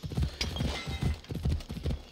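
A horse's hooves in Assassin's Creed Odyssey beat out a quick, even galloping rhythm of soft thuds, close and fairly quiet, with no talking.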